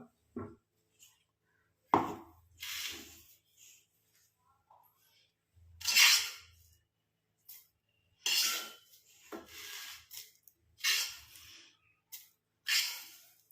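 Dry-roasted ingredients crumbling and scraping in a pan, heard as a series of separate crisp rustling, crackling bursts, each short and fairly close, with quiet gaps between them.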